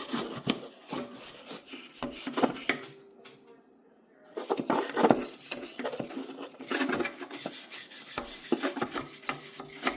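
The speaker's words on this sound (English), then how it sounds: "I'll just give it a good quick wire brushing in here." A wire brush scrubbing railcar grime off a flat car kept outdoors, rapid raspy scraping strokes close by, with a short pause before the brushing resumes.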